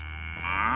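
A low, sustained cow moo sounds in a strategy video game battle, one loud, steady drawn-out call that rises slightly in pitch near its end.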